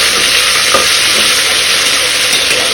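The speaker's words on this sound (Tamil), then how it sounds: "இது ஒரு 2 மினிட்ஸ் இப்படியே எண்ணெயில் வதங்கட்டும்." Potato and beetroot pieces with salt sizzle loudly in oil in a pan, giving a close, dense, constant frying hiss that does not let up, with no voices.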